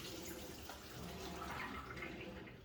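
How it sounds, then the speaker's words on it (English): Lasagna noodle cooking water poured from a pot into a strainer, a steady close splashing gush that runs the whole moment, with a sharp clatter at the very end. "Now we can definitely pour this off into our strainer."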